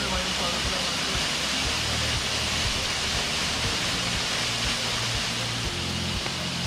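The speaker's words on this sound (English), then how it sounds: "Now this is Arinta Waterfall." Arinta Waterfall in Ipole Iloro, Ekiti, pours with a steady, dense roar of falling water that fills the whole scene at close range, unbroken throughout.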